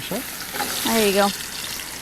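Potatoes sizzle and crackle in hot duck fat with a steady hiss, while a person speaks briefly over the cooking.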